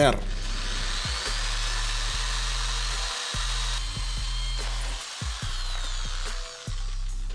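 An electric drill with a 3.5 mm bit whirs steadily, drilling holes in a metal PC case with short pauses and restarts, a continuous mechanical grinding close by.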